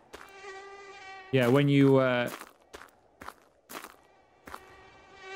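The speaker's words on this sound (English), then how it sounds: "these mosquitoes are all over us" Mosquitoes whine steadily near the ear in Finnish Cottage Simulator on a summer evening, a thin droning buzz that runs through the whole moment, broken by footsteps and slaps while someone talks over it.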